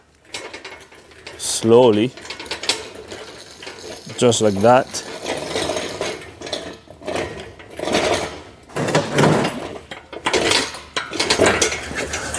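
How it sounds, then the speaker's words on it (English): An engine hoist holding a Chevrolet Cruze engine rolls back in a garage, with squeaky, rhythmic metallic creaks and rattles in two bursts and someone talking in between. "I'm gonna slide the hoist back a little bit"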